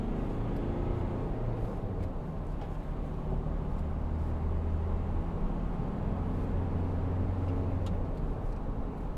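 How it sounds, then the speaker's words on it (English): A 2012 Volkswagen Amarok 2.0 BiTDI diesel pickup accelerates, its engine a steady low drone heard from inside the cab over continuous road rumble, with no talk. "Give it some gas, see what it's like."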